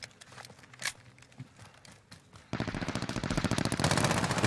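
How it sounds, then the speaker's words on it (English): Rapid automatic gunfire from a Call of Duty Warzone match bursts in loud and sustained after a couple of seconds of quieter scattered shots and game noise, a dense rattling stream of close shots. "They're shooting from over the gas station."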